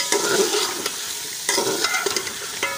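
Chicken pulao masala seasoned with chili is stirred in a pot as it fries, with rhythmic scraping strokes over a close, lively sizzle.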